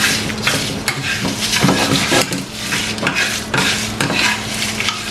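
Dried chillies roast in a pan over medium-low heat while a utensil stirs them steadily, producing continuous dry scraping and crackling sizzle at close range with no talking.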